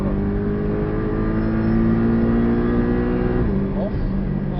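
A Porsche 718 runs at full throttle around the Portimão Autódromo Internacional do Algarve, its engine a loud, steady drone that climbs slightly and then drops near the end. A voice gives instructions over it.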